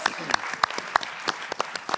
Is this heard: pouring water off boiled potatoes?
no